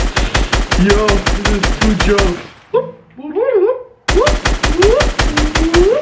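Rapid automatic gunfire from a Fortnite 1v1 match comes in loud, dense bursts, one at the start and one at the end, broken by a short excited spoken remark in the middle.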